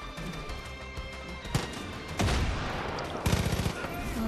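Bursts of rapid gunfire in the video game Far Cry 5 crack out in several volleys, sharp and loud, with a sustained electronic hum underneath.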